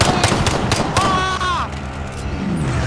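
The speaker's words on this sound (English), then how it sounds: "They're sniping." Sniper rifle fire in Call of Duty Warzone: a few sharp, loud gunshot cracks early on, with their echoes fading under a player's voice and game noise.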